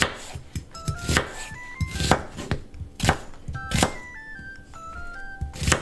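A knife chopping half an onion on a cutting board, sharp close thunks at an uneven rhythm, about a dozen cuts with small clinks between, with no talk over it.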